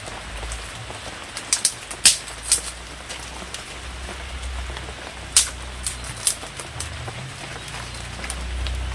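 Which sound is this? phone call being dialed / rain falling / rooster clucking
rain falling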